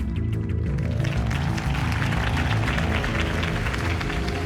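A crowd applauds after a campaign speech in the Batman: The Telltale Series video game, dense sustained clapping and cheering that stays loud and even throughout, without speech.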